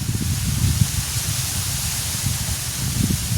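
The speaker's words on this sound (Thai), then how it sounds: "ลมเนาะ" Steady wind blows outdoors with a broad, continuous hiss and low rumbling gusts that swell and ease throughout, fairly loud and close to the microphone, with no other clear sounds standing out.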